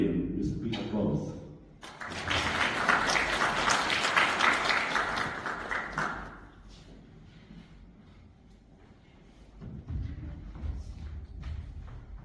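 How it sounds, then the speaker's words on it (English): Audience applause welcoming keynote speaker Professor Lim at a conference, a burst of clapping swelling for several seconds then fading, with a voice at the start and again near the end. "Please join me in welcoming Professor Lim with big applause."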